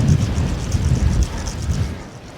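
Strong, relentless wind blows across a harbour during fishing, a loud continuous rumbling roar buffeting the microphone with gusty surges.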